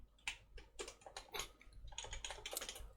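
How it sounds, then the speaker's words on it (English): Someone typing code on a computer keyboard, with quick irregular bursts of close key clicks that run continuously and quietly, with no speech. "I'm just typing code."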